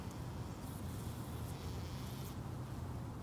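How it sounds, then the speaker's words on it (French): Honeybees swarming around hive entrances in warm November sun, a dense continuous buzzing hum that fills the whole stretch evenly, with many insects close by and no voices. "c'est vraiment inhabituel à ce temps-ci de l'année d'avoir autant d'abeilles qui volent"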